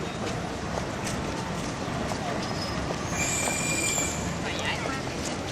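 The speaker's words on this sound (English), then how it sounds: "Quite a train station, if you ask me." Steady rumble of Amsterdam Central Station in 1998, with wheels squealing, a high metallic screech, and indistinct crowd noise throughout.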